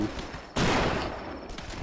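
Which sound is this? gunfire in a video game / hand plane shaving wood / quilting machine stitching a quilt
gunfire in a video game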